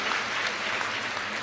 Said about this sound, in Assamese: এটা দীঘলীয়াকৈ হাত চাপৰি বজাই দিয়ক তেখেতসকলৰ কাৰণেও।